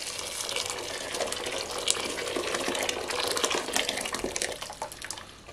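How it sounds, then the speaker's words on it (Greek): Hot water pours steadily into a pot of drained, soaked beans, a continuous close splashing rush of liquid that holds for several seconds without speech. "Θα προσθέσουμε καυτό νερό."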